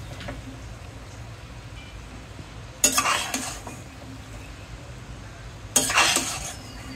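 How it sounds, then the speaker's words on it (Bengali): Boiled Kokola noodles are stirred in a pan with a utensil, two distinct scraping, clattering bursts standing out over a low background hum. "নুডলসটা একটু নাড়াচাড়া করে নিলেই কিন্তু মজাদার কোকোলা নুডলস রেডি"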